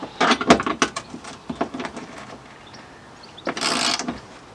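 Spanner tightening bolts during a VW T5 drawer build, a burst of close metallic clicks and ratcheting rattles, a quieter stretch, then another short scraping rasp.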